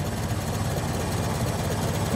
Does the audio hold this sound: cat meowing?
no